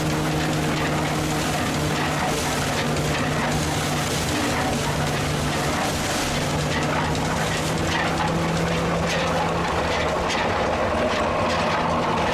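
An old Bulldog tractor engine runs with a steady low rumbling drone and a constant hum, loud and unbroken throughout, set against outdoor crowd noise at a tractor meet.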